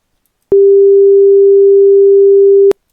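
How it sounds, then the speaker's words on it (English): A pure 396 Hz sine tone, a single steady hum that starts abruptly, holds at constant loudness for about two seconds and cuts off cleanly, with no other sound around it. "that corresponding frequency sounds like"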